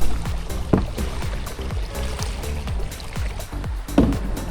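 A kayak paddle dips through the water in Jamaica, repeated close splashing and dripping strokes in a steady rhythm about twice a second, moderately loud and without talk.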